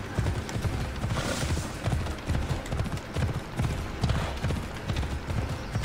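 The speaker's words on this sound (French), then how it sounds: "Hop, on prend le cheval." Horse galloping in the video game Assassin's Creed Odyssey, rapid rhythmic hoofbeats close and steady throughout, with a faint game backdrop and no talk.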